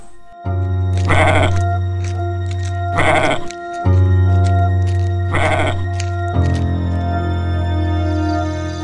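Goats bleat loudly and close by, several long wavering calls in succession, one overlapping another near the end.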